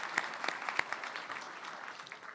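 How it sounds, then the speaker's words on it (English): Brief, faint applause from an awards gala audience, scattered claps blending into a soft continuous patter. "Could we get one more round of applause for Ken?"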